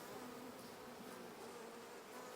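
Honey bees buzz steadily inside a queenless nuc hive as the lid eases off, a dense, close, continuous hum with no talk over it.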